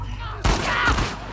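Gunfire in the video game The Last of Us 2 comes as a sudden loud burst of shots followed by a second blast, close and harsh, with a faint voice murmuring before it.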